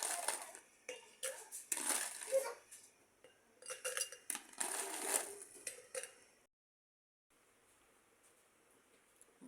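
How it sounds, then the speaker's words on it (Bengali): Fried chilies being poured from a pan into a box container in a home kitchen: bursts of rattling, clinking and scraping against the container for several seconds, then near silence with a faint hiss. "এবার বক্সের মধ্যে ঢেলে নেব।"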